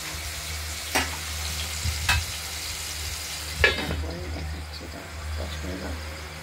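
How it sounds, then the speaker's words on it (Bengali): Cut pieces of rohu fish fry in hot oil with a steady close sizzle, broken by a few sharper pops and clinks from stirring. "এই তেলে আমরা রুই মাছগুলোকে হালকা হলুদ করে ভেজে নেব।"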